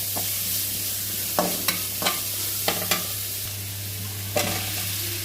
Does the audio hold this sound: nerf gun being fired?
no